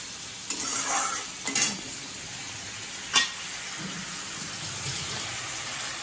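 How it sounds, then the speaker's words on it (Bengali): Ground cumin spice paste sizzling and being stirred in a pan as it is sautéed for mutton kosha, a steady fry hiss with a few scraping strokes of the spoon. "কষানো হচ্ছে।"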